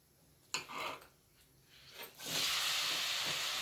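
Tomatoes going into hot oil for egg curry: after a couple of light clatters, a loud, steady sizzle bursts in partway through and hisses on close by until the end.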